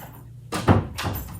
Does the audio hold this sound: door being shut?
yes